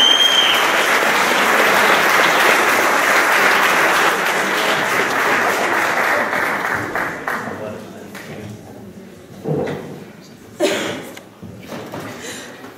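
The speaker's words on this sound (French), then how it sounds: "C'est une standing ovation," Warm applause from an audience giving a standing ovation at a gathering, dense and sustained at first, then thinning out into a few scattered claps and knocks as it fades.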